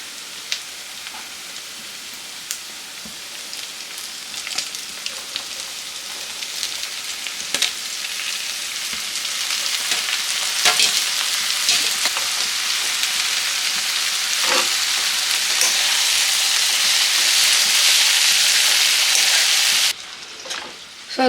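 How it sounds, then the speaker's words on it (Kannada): Chopped cluster beans frying in a pan, a steady crackling sizzle that swells louder midway, with intermittent spatula scrapes and taps as they are stirred, then a brief drop near the end. "ಇದನ್ನು ಚೆನ್ನಾಗಿ ಮಿಕ್ಸ್ ಮಾಡಿಕೊಂಡು ಒಂದು 1 ನಿಮಿಷ ಅಷ್ಟು ಮಾತ್ರ ಫ್ರೈ ಮಾಡ್ಕೊಳ್ಳಿ"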